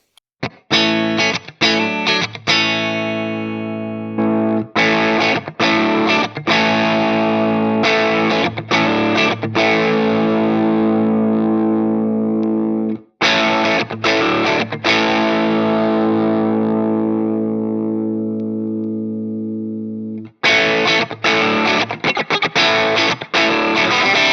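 Electric guitar played through a Fractal Audio boost drive pedal model, loud overdriven chords and riffs with sustained ringing notes, brief stops between phrases, close and alone.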